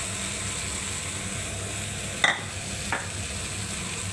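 Leftover rice is stirred in a pan for fried rice under a steady, close hiss of frying, with two brief utensil scrapes about half a second apart and no talking.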